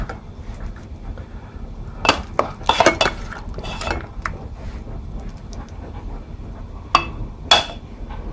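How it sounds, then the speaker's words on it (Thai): Cooked rice is scooped from a pot with a utensil in a home kitchen, giving scattered sharp metallic scrapes and clinks, a cluster midway and two more near the end, over a quiet background. "ข้าวใช้ได้แล้วเราจะตักข้าวนะคะ"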